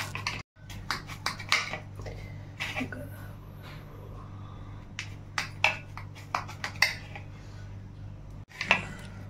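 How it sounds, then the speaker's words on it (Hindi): A knife cuts homemade besan (gram-flour) paneer into pieces on a board, giving a series of crisp, irregular taps and clicks close by, with brief pauses between cuts and some talking around them. "तो हम पनीर की कटिंग कर लेंगे।"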